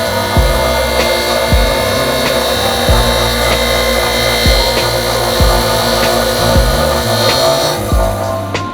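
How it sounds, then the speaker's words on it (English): An intercooler core is polished with a power tool, giving a steady abrasive grinding whir with rhythmic rubbing strokes that repeat close up and loud throughout. "And Nathan, he's polishing the core right now."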